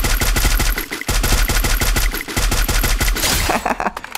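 Rapid automatic gunfire from the battle royale game Free Fire, loud and close, bursts of regular shots with brief pauses, ending in a brighter hissing tail.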